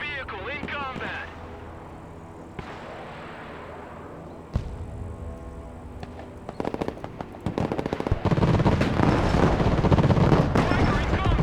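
Battlefield gunfire in the Broken Arrow war strategy game: scattered shots at first, building into dense, rapid machine-gun bursts and explosive crackle toward the end, with voices heard in the mix.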